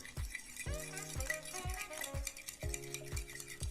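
Egg being stirred with red dye in a small bowl for artificial worm fishing bait: a run of about eight quick, rhythmic scraping and clinking strokes, close and fairly quiet, with no voices.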